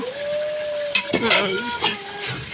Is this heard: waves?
no